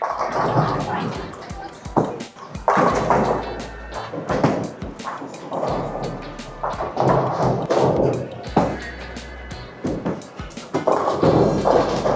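A bowling ball crashes into pins during a Team USA Trials match, the thuds and clattering pin action rising and falling across the lane while a commentator talks over the play and the crowd murmurs.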